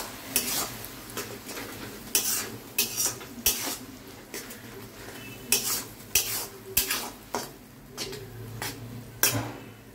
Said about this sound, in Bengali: এবার সব কটা ইনগ্রিডিয়েন্টস ভালো করে কষানো।